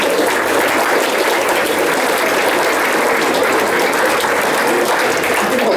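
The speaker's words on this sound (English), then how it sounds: "So a round of applause for the players again." At a youth football awards night for under-16 players, a room of people claps continuously, a dense, even roar of applause holding steady for nearly six seconds.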